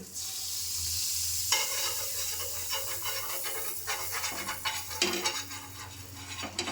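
Butter on a hot griddle for a sandwich, quiet at first, then a crackling sizzle from about a second and a half in, with scraping and spreading strokes growing busier toward the end.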